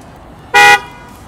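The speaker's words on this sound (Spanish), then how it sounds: "bocinas de pánico" A 2019 Ford Raptor double-cab pickup sounds its panic horn from the key fob: a single loud, close horn blast lasting about a quarter second, with quiet surroundings before and after.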